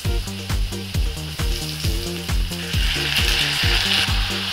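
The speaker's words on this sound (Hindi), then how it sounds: "चावल डालने के बाद अभी सब्जियों के साथ चावल को भी हम थोड़ा सा भून लेंगे" Rice and vegetables sizzle in a pan while being fried for vegetable pulao, a steady bright hiss under rhythmic scraping strokes of a spoon stirring the mixture, repeating roughly every half second.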